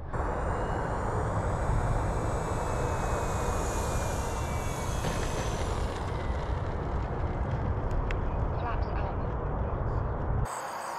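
A small RC model Super Tucano airplane's motor whines steadily overhead in wind, buzzing loud and continuous as it comes in to land, then cuts off abruptly near the end.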